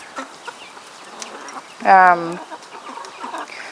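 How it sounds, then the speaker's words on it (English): A single loud burst of clucking from mixed-breed hens, a rising squawky call lasting about half a second, against a quiet background of faint rustling. "these are mixed breed chickens"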